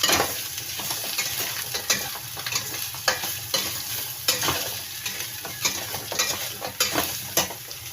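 Meat stirred and frying in a hot pan for a Filipino kilawin dish gives a loud, steady sizzle broken by repeated scraping stir strokes at a rough, uneven rhythm, with no voices.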